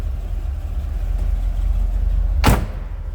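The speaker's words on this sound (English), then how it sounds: "Door closes nicely." A 1981 Chevrolet Corvette door swings shut with a single solid thud near the end, over the steady low hum of the idling engine.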